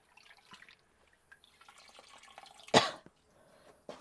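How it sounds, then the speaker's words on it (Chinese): A single sharp cough rings out near the end, close by, amid faint background rustling and quiet room sound. "怎么还咳嗽上了？"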